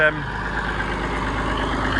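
A Massey Ferguson 135 tractor engine idles close by in a steady, even, low rumble that runs throughout without changing pace.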